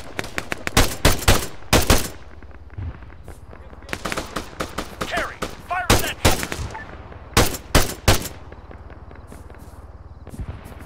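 Gunfire in the military shooter game Arma 3: loud, close bursts and single shots crack out irregularly through the stretch, with a voice talking between volleys.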